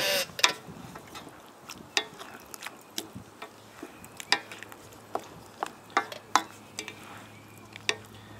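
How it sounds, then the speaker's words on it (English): Stir fry cooking in a pan over a Silverfire Survivor rocket stove outdoors, heard as a run of sharp metallic clicks and scrapes from stirring, repeating roughly every half second over a faint low sizzle. "Put the rest of my stir fry in there."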